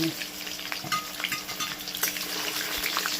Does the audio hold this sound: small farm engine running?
no